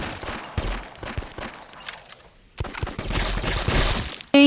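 Bursts of gunfire ring out in a zombie shooter game, several sharp rapid volleys separated by brief pauses, loud and close with a final abrupt blast at the end.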